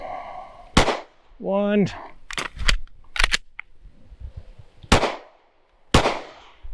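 Pistol shots ring out in a reload shooting drill: a string of sharp, loud cracks spaced irregularly, some in quick pairs, with a brief rising electronic tone and a short spoken count between them.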